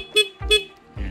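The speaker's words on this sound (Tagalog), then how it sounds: "Napaka cute ng kanyang busina" The horn of a 2024 Suzuki Sky Drive scooter toots twice in quick succession, small and cute-sounding, close and fairly loud, with a short pause between beeps.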